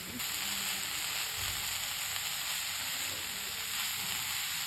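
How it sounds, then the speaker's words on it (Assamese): Vegetables and spices frying in a pan give a steady, even sizzle throughout, close and fairly quiet, with no talking. "এতিয়া লৰাই অকণমান ভাজিম"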